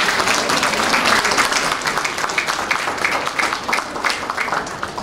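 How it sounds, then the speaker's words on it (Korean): An audience at a peace and reunification art exhibition gives loud, sustained applause. Many hands clap in a dense, continuous roar with some crowd murmur beneath. "여러분 큰 박수 한번 부탁드릴게요"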